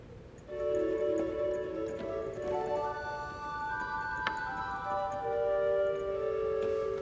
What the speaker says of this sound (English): The second family of stops is the flute sound,